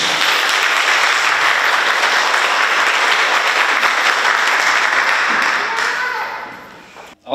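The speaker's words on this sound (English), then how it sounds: "If everybody could please give a round of applause and make some noise" Audience applause at a high school graduation ceremony, a dense sustained clapping from a large crowd that holds steady for about six seconds, then fades out near the end.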